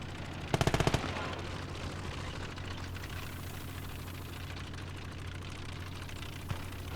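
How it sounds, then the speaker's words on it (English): A short, rapid burst of machine gun fire in the World War II game Call to Arms: Gate of Hell, over a steady engine-like battlefield drone that continues afterward. "So then Alexander Stewart with his machine gun is covering the left flank of that trench"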